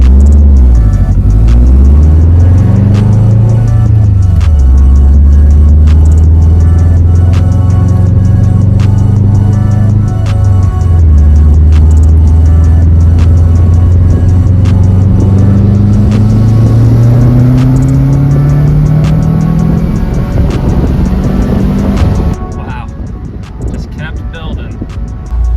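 A Subaru WRX accelerates hard on a road during a timing pull, its engine note climbing steadily through the gears with a loud, close rumble and rising pitch before cutting off abruptly near the end.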